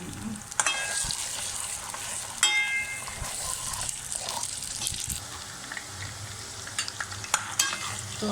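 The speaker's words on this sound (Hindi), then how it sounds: "तो अब हमारा लहसुन और गाजर हल्के से फ्राई हो गए।" Chopped garlic and carrot frying for fried rice, a close steady sizzle broken by stirring clanks and scrapes of a utensil against the pan, with no voices.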